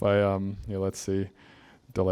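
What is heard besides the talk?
No everyday noises stand out.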